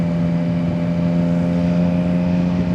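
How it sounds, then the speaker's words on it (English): A three-cylinder motorcycle engine idles with a deep, even hum and constant harmonic drone, close and loud, with no speech. "the 3-cylinder sounds like a bigger engine compared to a 4-cylinder"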